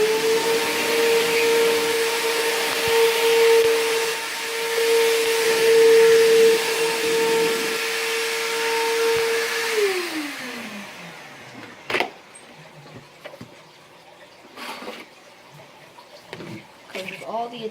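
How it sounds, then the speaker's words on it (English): A Bissell Powerforce upright vacuum cleaner runs with a loud, steady motor whine for about ten seconds, then powers down with a falling pitch, followed by scattered clicks and knocks nearby. "enjoy this demonstration of the Bissell vacuum"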